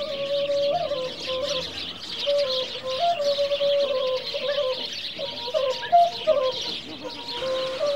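Birds at a temple in Chiang Mai chirp and tweet as they are released, a busy run of bright calls and whistles, fairly close and continuous, with some flutter and soft background noise underneath.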